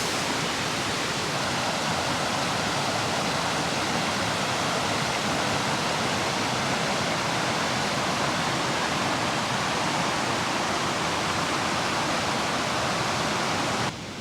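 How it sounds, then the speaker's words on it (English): A steady, full rush of a river flowing near a wild campsite, a constant broad wash of water that stays even throughout, with no voices. "The river's just down there."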